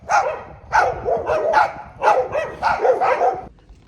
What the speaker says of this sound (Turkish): Bayağı bir köpek var yani